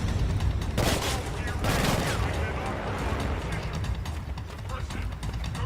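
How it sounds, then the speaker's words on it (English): Enemy gunfire in Killzone Shadow Fall, a chaotic fusillade of overlapping shots and bursts at close range, continuous and dense with faint voices mixed underneath. "I hear you even shooting me from close by, but I cannot see you."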